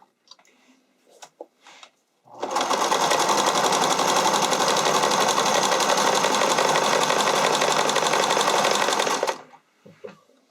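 A sewing machine runs a zig zag hem on stretchy spandex in one steady, fast burst lasting about seven seconds, with faint handling clicks before and after.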